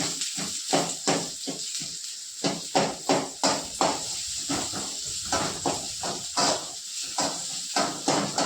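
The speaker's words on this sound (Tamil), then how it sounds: "லைட்டாக அப்படி வதக்கிட்டு அதுக்கப்புறம் நம்ம கட் பண்ணி வச்சதை சேர்த்துக்கலாம்" Chopped vegetables sauté in a pan with a steady sizzling hiss and repeated scraping stirs in a quick, uneven rhythm, close and fairly loud, with no talking.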